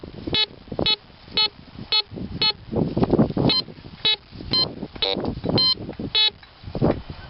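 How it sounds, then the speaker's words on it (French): A metal detector sweeps a field in Quebec, sounding a series of regular high-pitched electronic beeps, about a dozen short tones evenly spaced, with low rustling and handling noise between them and no talk. "Ça indique un petit peu n'importe quoi sur mon détecteur, du fioul, de l'allume, de 5 cents, du zinc"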